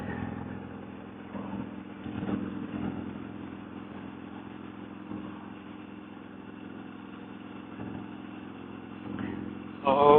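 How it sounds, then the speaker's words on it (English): A motorcycle engine drones steadily while riding along Flathead Lake in Montana, a low muffled hum with wind buffeting, fairly quiet throughout with a brief rise near the end. "it catches the motorcycle noise a little bit"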